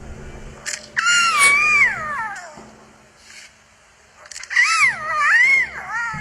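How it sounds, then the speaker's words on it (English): A young lion cub, not old enough to roar, lets out two strained, rising-and-falling wailing calls a few seconds apart, loud and close, with quieter noises between them. "cubs will try to join in even when they aren't old enough to roar yet"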